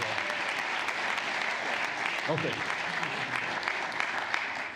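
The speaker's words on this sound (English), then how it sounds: "I want to give a round of applause for Gary" An audience at a food entrepreneurship talk gives a sustained round of applause, many hands clapping steadily, while a speaker briefly says a couple of words over it partway through.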